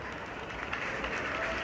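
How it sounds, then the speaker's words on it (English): Watching supporters at a Liverpool training session before the 2018 Champions League final give a sustained round of applause, a dense steady patter of many hands with faint crowd murmur. "I'm getting a round of applause as well from the watching supporters as well for carrying a goal."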